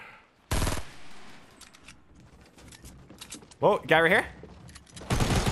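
Gunfire in Fortnite Battle Royale duo squads on PS4, sharp loud bursts at the start and end with a scattered exchange between, under excited talk from a player.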